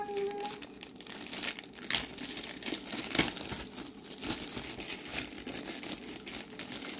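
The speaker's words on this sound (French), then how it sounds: "Donc, on va ouvrir la toile." A diamond painting canvas being unwrapped from its plastic packaging, with close crinkling and rustling in irregular bursts and occasional sharper tearing sounds, no voices.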